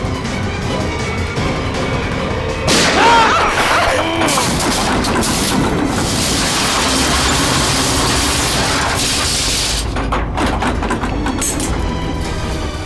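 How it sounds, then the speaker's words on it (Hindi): Dense, chaotic burst of rapid gunfire inside a lift, with clattering mechanical noise, loud and close, filling the whole stretch with little pause. "लिफ्ट के अंदर गोली चली।"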